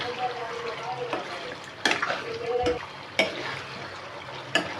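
Andhra-style chicken fry sizzling in a pan while a spoon stirs it, a continuous close sizzle punctuated by a few sharp scraping clinks of the utensil against the pan.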